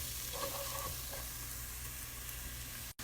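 Chopped onion fries in a pan with a steady, even sizzle that continues throughout at close range. A short dropout comes near the end, and there is no talking.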